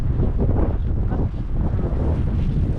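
Strong wind on a mountain farm in Bakun, Benguet, Philippines buffets the microphone in a continuous loud roar, with gusting rumble throughout and no other clear sounds.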